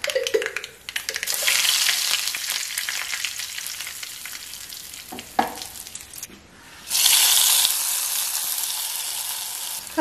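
Mustard seeds dropped into hot coconut oil to temper kurukku kalan for an Onam sadhya burst into loud, crackling sizzling. The sizzle dips briefly, then surges again even stronger and carries on steadily with no speech.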